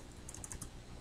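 Computer keys are tapped in a brief burst of quick clicks, faint and close, during a Unity scripting session.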